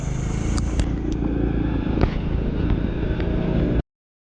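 Small motorcycle engine steadily droning on a mountain road in Laos, continuous and fairly close, with a few sharp clicks and rattles over it before it cuts off abruptly.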